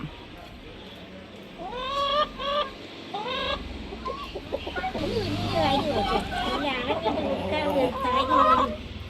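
Chickens cluck and squawk in a busy run of calls at a poultry seller's, some close and loud, with murmured voices and farmyard bustle underneath.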